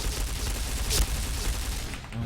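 Sustained P90 submachine gun fire in a shooting video game, a dense, loud, continuous burst of rapid shots running the whole time.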